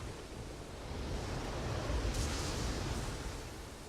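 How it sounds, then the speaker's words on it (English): Ocean waves wash in a steady, continuous broadband rush from a Frozen II trailer scene by the sea, swelling slightly midway with a brief hiss of spray, with no voices over it. "So we've got Elsa kind of sitting by the waves over here"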